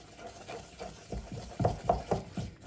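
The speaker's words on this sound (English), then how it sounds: "We're starting to fetch all the flour in now and give it a good mix." Flour and milk being stirred into Yorkshire pudding batter in a bowl, a run of soft, irregular scraping and sloshing strokes with a few louder knocks of the utensil, close and fairly quiet, no voices.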